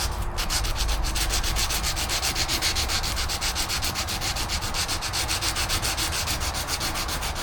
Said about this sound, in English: I'm going to rough up the area a little bit.